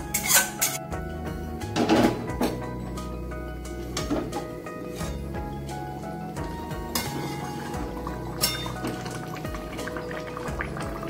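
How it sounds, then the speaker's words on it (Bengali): Fried onions go into a simmering Bengali rohu fish curry in a pot, giving a soft steady bubbling and sizzle with a few louder clatters and splashes near the start. "পেঁয়াজটা ভাজা হয়ে গেছে, এবার মাছের ঝোলে দিয়ে আমি 2 মিনিট ফুটিয়ে নেব"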